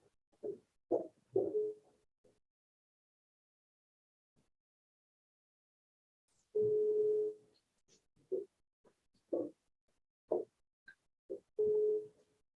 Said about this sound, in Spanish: Nos estamos comunicando al teléfono premiado y no contesta.